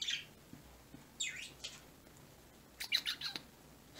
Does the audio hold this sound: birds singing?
yes